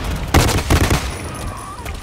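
Burst-fire pistol gunfire in the Blacklight Retribution video game, two quick loud bursts close together amid game noise.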